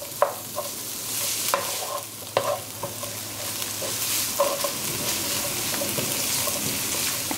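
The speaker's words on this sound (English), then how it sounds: "Let this saute." Oil sizzles under a pan of lasagna filling being sautéed, a steady hiss broken by a few sharp clicks and scrapes as it is stirred, close and fairly loud with no talking.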